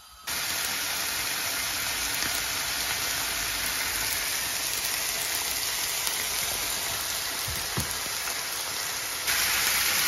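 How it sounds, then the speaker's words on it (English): Burgers sizzle on a griddle pan in a steady, dense hiss that stays loud and even throughout, with a brief rise near the end and no voices. "So we're using a griddle pan for the burgers."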